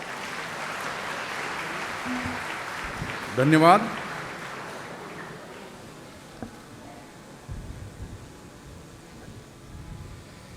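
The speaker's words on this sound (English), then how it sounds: "Let's give him a big round of applause." An audience at a science camp valedictory function applauds for a welcome speaker, a soft wash of clapping that fades over several seconds, with brief speech in the middle.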